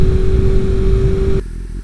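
A motorcycle on a long cold-weather highway tour from Busan to Cheonan, its engine droning loud and close with a steady tone that suddenly drops away to a quieter rumble near the end.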